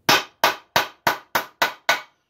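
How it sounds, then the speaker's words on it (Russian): A hammer strikes 0.8 mm sheet metal being formed into a pipe, landing seven sharp, ringing blows at a steady, even rhythm, close up and with no talking. "Теперь я, например, бью щечками молотка, чтобы побыстрее."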